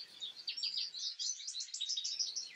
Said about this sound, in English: The males twitter their tinny tune at about half a decibel apiece.